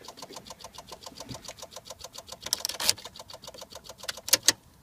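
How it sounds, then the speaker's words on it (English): Rapid, steady clicking from the fuse panel and fuse box of a car that won't start when the key is in the ignition, a fast regular ticking with a few louder sharp snaps toward the end. "there's a clicking noise coming from the fuse panel and the fuse box in the car."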